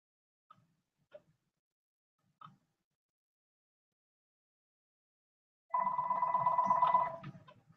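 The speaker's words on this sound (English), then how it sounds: "phone's ringing." A telephone bell rings once as a single bright, trilling burst of about a second and a half, following a few faint isolated clicks and taps in an otherwise quiet room.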